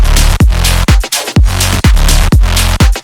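Loud punchy electronic drum groove with a layered two-part clap snapping on the backbeat over a heavy distorted bass, repeating in a tight steady rhythm.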